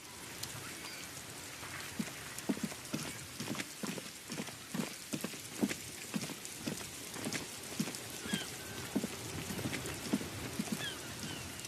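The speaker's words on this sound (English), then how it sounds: "It's raining again." Steady rain falls in the Disco Elysium game world, with a constant broadband patter and a regular series of soft, evenly spaced taps, like drops or footsteps, rising above the wash. No one speaks.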